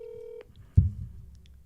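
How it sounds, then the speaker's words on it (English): A telephone on an outgoing call: a steady ringback tone that cuts off, then a loud click or thud and a low rumbling line noise, close and without talk. "And it's ringing."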